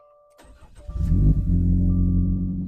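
A Subaru Crosstrek Wilderness fitted with a Nameless Quad Executive exhaust starts up close to the microphone, catching with a burst before settling into a loud, steady idle rumble.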